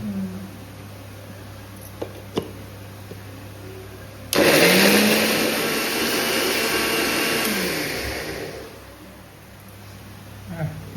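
A kitchen mixer grinder starts abruptly and whirs loudly for several seconds, grinding roasted tomato and coriander into a paste, then winds down and stops, with faint talk before it begins.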